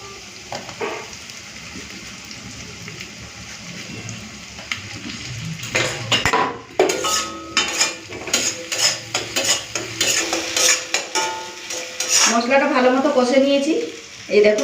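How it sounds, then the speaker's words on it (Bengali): Chopped ripe tomato tossed into hot oil in an iron wok, a frying sizzle under a burst of clattering and scraping spoon strokes against the metal, close and busy, with a voice talking at times. "একটা নিয়েছি টমেটো পাকা টমেটো এটাকে কেটে এখন দিয়ে দিই"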